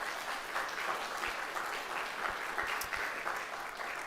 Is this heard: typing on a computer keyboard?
no